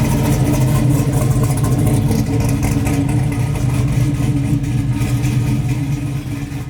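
A 600hp custom Chevy C10 pro-touring truck engine runs loud and close with a dense, steady rumble that stays strong throughout, fading slightly at the end.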